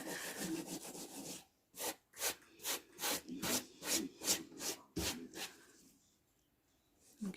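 Fingers rub over the surface of a model in about a dozen even, rhythmic strokes. The soft, close-up scrubbing pauses briefly near the start and end, and nobody speaks.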